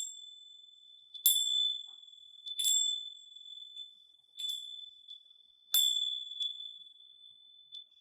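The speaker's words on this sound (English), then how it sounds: "just ring my little bells" Small bells ring at the close of a slow-flow yoga class, with four or five clear, bright dings spaced a second or so apart, each one ringing out into near silence.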